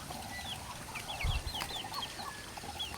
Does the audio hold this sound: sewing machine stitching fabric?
no